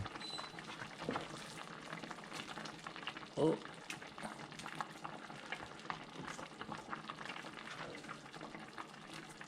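Pork bola bola with misua simmers in a covered pot, a bubbling, gurgling boil with scattered pops and one louder clatter, under occasional quiet talk.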